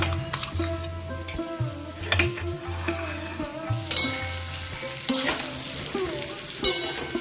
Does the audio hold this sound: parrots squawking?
no